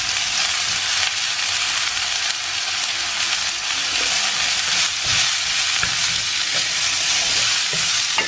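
Chopped raw mango tumbles into a hot pan of oily mango pickle spice mix and is stirred, giving a steady, close sizzle and frying hiss with occasional scrapes and clinks of the spoon.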